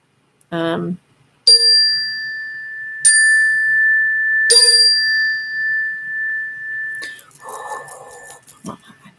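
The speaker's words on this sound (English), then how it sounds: "They're wanting me to ching the chime." A hand chime struck three times at even intervals, each bright ding ringing on into a long sustained tone, loud and close, with brief speech before and some voice and handling noise after.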